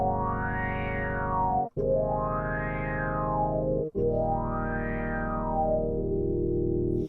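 Polymoog 203a synthesizer played through its filter, three sustained chords each with a sweeping filter rise and fall, separated by brief gaps, loud and alone.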